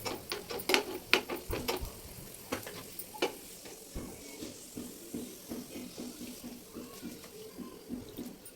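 Dry fruits fry in ghee for barley payasam, a close, steady sizzle with busy stirring scrapes, louder and choppier at first, then settling into a softer crackle.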